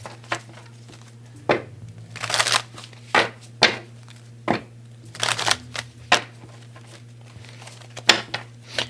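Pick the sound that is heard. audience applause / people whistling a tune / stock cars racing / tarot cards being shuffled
tarot cards being shuffled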